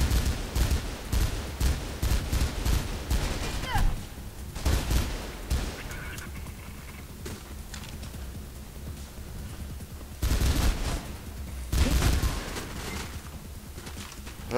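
G36 assault rifle in the video game Mirror's Edge fires in quick bursts, loud and close, with quieter stretches and another round of bursts later on.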